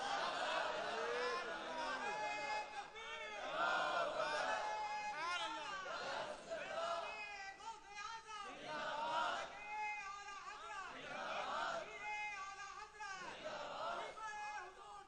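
A congregation at a religious sermon gathering chants religious slogans together, the massed voices swelling and falling in repeated waves, fairly close and strong throughout.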